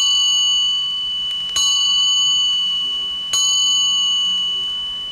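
A wishing bell rings twice, two clear struck dings a couple of seconds apart, each with a long shimmering sustain that slowly fades, alone with no voices.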